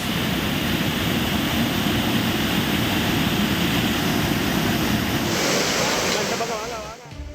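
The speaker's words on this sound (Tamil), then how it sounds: "கனமழை காரணமாக குற்றால அருவிகளில் இரவில் கடும் வெள்ளப்பெருக்கு." Courtallam falls in heavy flood after heavy rain, a loud, steady broadband roar of rushing water that continues unbroken before fading slightly at the end.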